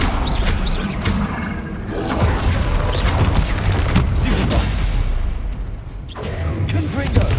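Confringo blasting-spell explosions in the video game Hogwarts Legacy: a string of loud, close booming bursts and crackling impacts in a dense, continuous battle mix with a brief lull near the end.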